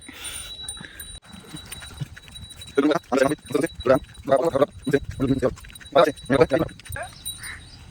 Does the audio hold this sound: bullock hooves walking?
yes